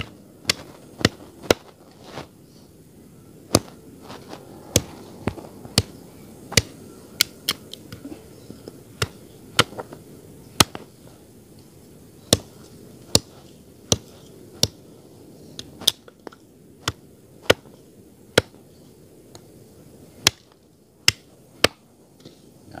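Plant cuttings of a rare kawao (manggul) tree being chopped with a machete, heard as a steady series of sharp, crisp chops spaced about a second apart, fairly close, with no talk over them.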